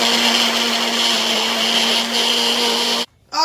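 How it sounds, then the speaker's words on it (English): Blender pureeing fresh strawberries, a loud steady motor whir with a constant hum that cuts off abruptly near the end, then briefly restarts. "Going to cover the blender and we're going to puree it until they smooth."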